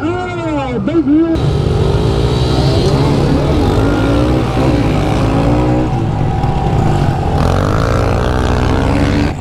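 A pack of Honda CRF110 dirt bikes launches at a race start, their engines revving up hard and climbing in pitch together, loud and close. Voices can be heard over the engines.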